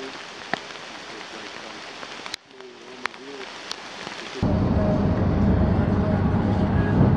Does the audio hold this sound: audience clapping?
no